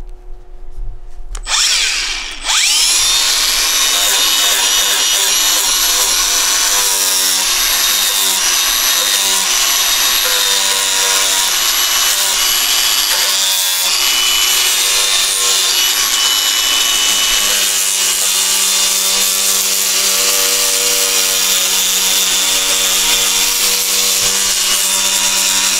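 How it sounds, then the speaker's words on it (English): Power sander smoothing the snout of a hand-carved wooden bear, a loud steady whine that starts abruptly after a brief quiet moment and runs continuously with slight rises and dips as it works the wood surface. "I'm gonna go ahead with the sander and just smooth out around here a little bit"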